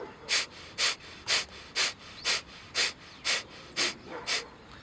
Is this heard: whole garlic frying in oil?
no